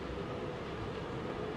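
A train rolls along steadily in the Forgotton Anne video game, a continuous broadband rumble with low-end weight holding at an even level throughout and no voices over it.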